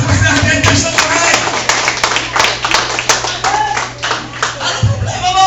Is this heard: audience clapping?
yes